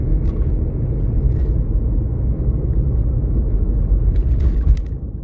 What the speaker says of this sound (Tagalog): Malaki ang makina.